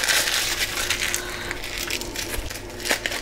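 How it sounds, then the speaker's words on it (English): Greaseproof paper scrunched up by hand in a kitchen while making an egg custard tart, a continuous close crinkling and crackling for a few seconds. "Now get a bit of greaseproof paper and scrunch it up."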